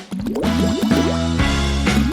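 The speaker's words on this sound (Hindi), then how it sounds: "और इसे पानी में टपकाएंगे।" Watermelon juice drips into a container of water, with a few quick drips followed by close, bubbling, plopping liquid sounds that rise in pitch over about two seconds.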